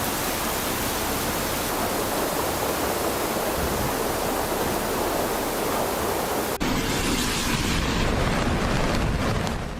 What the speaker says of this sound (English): Water surged through the city center, sweeping away cars, debris, and the calm that once filled the town